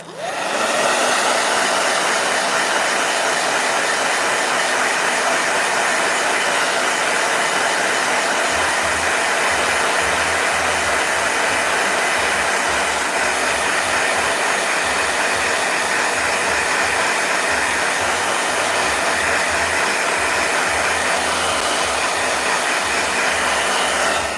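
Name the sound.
blow dryer running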